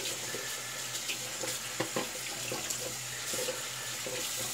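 Tap water running steadily into a sink while a shaving brush is rinsed under it, a soft close hiss with light splashing and small irregular spatters.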